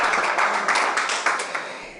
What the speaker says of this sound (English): another round of applause to our great player and star, Cristiano Ronaldo